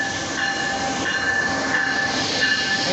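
Continuous rumble of a moving passenger train from on board, with steady rolling wheel noise and a faint high wheel squeal running through the whole stretch at a loud, even level.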